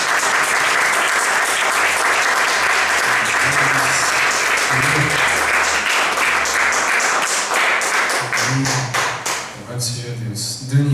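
A congregation applauding during a Portuguese-language worship service at a church: dense, loud, sustained clapping from a crowd, with tonal music or voices underneath and the clapping thinning slightly toward the end.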